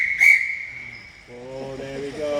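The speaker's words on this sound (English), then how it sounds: "I just need to whistle it first," A sharp whistle blast rings out at a railway heritage centre to signal a train's departure, followed by a steady tone and then a lower horn-like chord, fairly close and with no talking.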